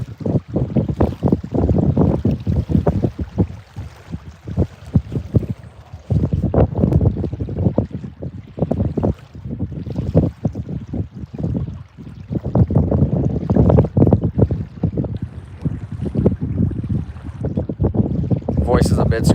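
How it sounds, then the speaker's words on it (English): Strong outdoor wind buffets the microphone in heavy, continuous low rumbling gusts at a carp fishing spot, with occasional voices faintly under the roar. "It's already getting really windy."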